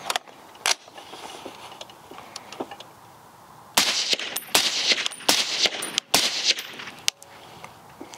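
A PSA Sabre 10 rifle fired suppressed with a Duramag magazine on gas setting 3. A handful of sharp, irregularly spaced shots crack out, with the later ones grouped more tightly and ringing louder, and no voices.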